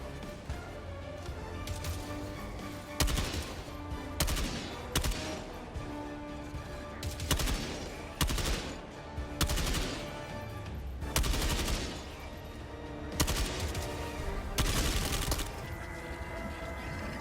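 Force of Law weapon firing in Helldivers 2, heard as a run of loud sharp shots at irregular intervals amid steady game background noise, with no voice over them.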